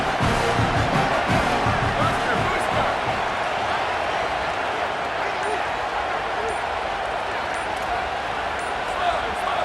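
A stadium crowd in College Football 27 roars in a steady, loud wash throughout, with a commentator talking over it.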